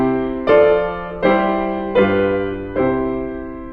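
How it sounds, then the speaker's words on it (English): Four sustained, harmonically rich chords sound in steady succession, forming a perfect authentic cadence. Each chord is struck cleanly and rings until the next one arrives, with no voices. "So now listen to the perfect authentic cadence"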